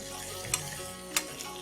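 Potato sabzi with rock salt, black pepper and a little sugar being stirred in a pan for a fasting meal, a soft steady sizzle broken by two sharp scraping clinks of the spoon against the pan.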